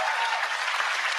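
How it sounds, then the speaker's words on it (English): An audience applauds steadily in a studio interview setting, a dense wash of clapping at moderate level that continues without a break, with speech faintly mixed in. "Can we just applaud her for"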